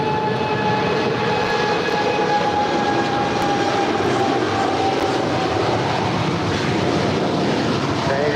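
An Atlas Air Boeing 747-8 freighter departing LAX, a loud continuous jet engine roar with a broad rumble and whining tones that drift slowly in pitch, steady throughout.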